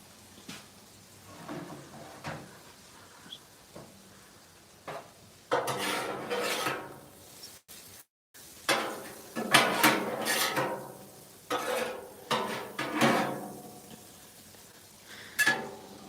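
Thawed precooked shrimp being sautéed in a pan: intermittent clatter and scraping of utensil against cookware in bursts, with short pauses between, fairly close and moderately loud, no steady sizzle.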